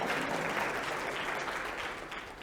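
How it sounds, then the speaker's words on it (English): A conference audience at an open banking event claps in a steady round of applause that holds evenly, then fades slightly near the end. "Can you please give us a good round of applause?"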